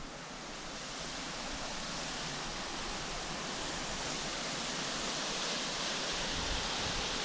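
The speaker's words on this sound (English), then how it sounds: "Pretty little waterfall." A small waterfall in a snowy, icy spot pours fast-flowing water in a steady, close, broadband rush that holds even for the whole stretch, with no voices over it.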